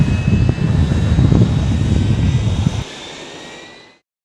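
A turbine-powered jet class racing aircraft at the Reno air races roars past loudly and close, a sustained broadband jet rush that cuts off abruptly and then fades away, with no voices.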